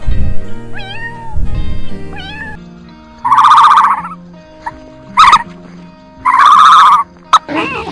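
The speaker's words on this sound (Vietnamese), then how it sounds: "Con mèo." A cat meowing repeatedly, several loud drawn-out meows close up, separated by pauses, with a few shorter sharp cries between them.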